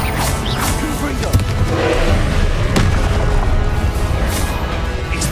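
Blasting-spell explosions from a Harry Potter video game boom and crash in a dense, loud burst of impacts, heard under an ongoing voice.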